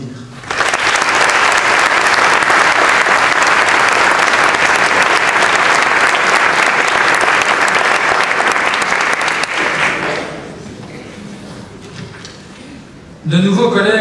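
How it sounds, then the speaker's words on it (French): Sustained loud audience applause fills an academic opening ceremony hall at Gembloux Agro-Bio Tech, steady for about ten seconds before fading into quiet room tone, then a voice begins speaking at the end. "Je vous propose de les applaudir."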